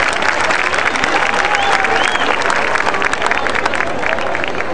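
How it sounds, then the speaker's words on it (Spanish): Audience at a fair queen coronation applauds the outgoing queen, a dense, loud, continuous clapping crowd with faint voices mixed in, sustained without pause. "Un fuerte aplauso para ella."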